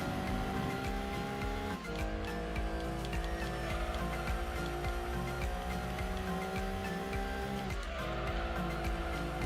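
Racing engines in Gran Turismo 2 during a used-car race with a Mitsubishi FTO, Mazda RX-7 and Subaru Impreza, a loud continuous engine drone with shifting pitch and brief tire squeals, no voices.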